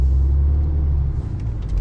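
Heavy road traffic on a busy route at toll gates is heard from inside a truck cab as a loud, steady low rumble of engines and tires, with a few faint passing-vehicle swells near the end.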